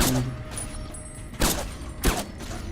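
Gunfire aimed at turrets in the video game Fallout New Vegas, a mod-heavy hardcore playthrough. It comes as a mechanical rattle of fire with two sharp, loud booming shots about half a second apart.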